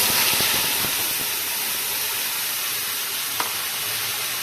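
Potatoes frying in a pan as gravy is poured in, giving a steady, close, loud sizzle and hiss that continues throughout, with one small clink near the end.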